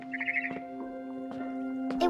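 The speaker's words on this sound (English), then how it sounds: "It was a barn swallow going back to her nest." A barn swallow in What Remains of Edith Finch gives a quick run of chirps returning to its nest, a few short bright calls over a sustained musical drone, close and fairly clear.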